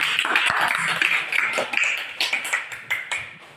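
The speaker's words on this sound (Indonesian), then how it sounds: "tepuk tangan untuk kelompok B" Classroom students clap for group B, a short burst of scattered, fairly faint handclaps that thins out toward the end.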